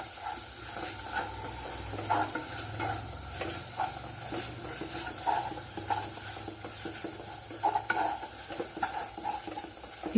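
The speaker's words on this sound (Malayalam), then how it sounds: "അരപ്പ് ചേർത്തതിന് ശേഷം നന്നായി അരപ്പ് ഇതിലോട്ട് ചേർത്ത് വഴറ്റി കൊടുക്കുക." Ground spice paste sautéing in a pan for egg roast: continuous close frying sizzle with repeated spatula scrapes and stirring strokes throughout, no voices.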